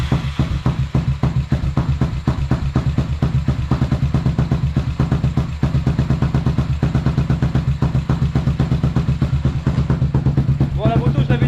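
A Honda Dominator scrambler motorcycle engine runs at a steady idle after being restarted, a close, even thumping pulse with mechanical clatter, loud and unbroken for the whole stretch.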